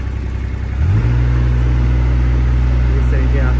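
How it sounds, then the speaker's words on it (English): A JCB 8018 mini excavator engine cranks and catches about one second in, then settles into a loud, steady diesel idle hum that carries on to the end. "Start the engine."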